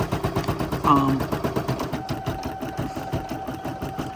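An embroidery machine stitching a Halloween design chatters in a fast, even needle rhythm close by, with a soft voice talking over it briefly.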